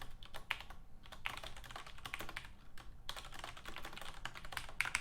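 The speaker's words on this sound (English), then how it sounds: "look at all that typing" Rapid typing on a computer keyboard during programming work, a dense, continuous clatter of keystrokes heard up close at a low level, with brief pauses and no talking.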